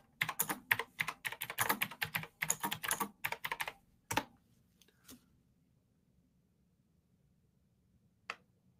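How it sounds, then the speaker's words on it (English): Fast bursts of clicky computer keyboard typing, close and fairly quiet, run for about four seconds, then a few isolated key taps follow in near silence. "I'll type back."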